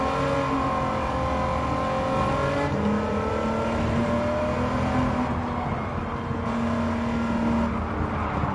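A supercharged, engine-swapped DeLorean in Gran Turismo 7 revs continuously and loudly, its whining tone climbing and holding through gear changes, close and alone without any voices.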